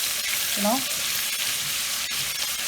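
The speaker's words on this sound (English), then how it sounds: "So let's saute this mixture ginger garlic paste until the raw smell goes." Ginger garlic paste sautés in a pan over reduced flame, a steady soft sizzle with a brief stirring scrape, no talk.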